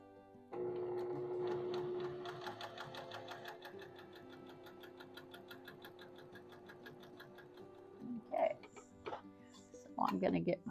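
A sewing machine runs steadily while chain piecing quilt blocks, a continuous mechanical hum for most of the clip, followed by a few short handling knocks and clicks near the end.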